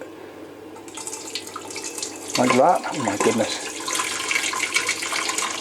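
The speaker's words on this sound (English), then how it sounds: "I hate pouring huge quantities of boiling liquid from one thing into another" Boiling liquid poured from one pan into another while making a turkey ragu, heard as a rushing, splashing pour in short bursts under a person talking and exclaiming.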